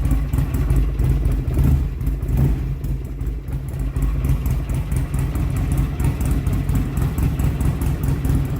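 A Buell Lightning XB12SS motorcycle engine runs steadily on its first start after sitting for months, a loud, close, rumbling idle with no obvious misfires throughout.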